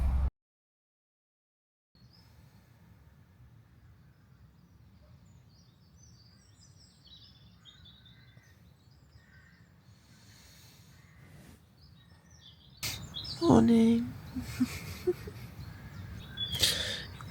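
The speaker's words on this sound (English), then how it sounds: "probably hear the pigeons and the rooks and the other birds all twittering away" Outdoor morning birdsong at a campsite, with scattered pigeon chirps and distant rook cawing over a low steady hum, growing louder near the end as a voice briefly speaks.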